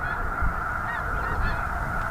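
Geese honk in a dense, continuous chorus from a large flock on a lake, many overlapping calls blending into a steady clamor with low rumbling beneath.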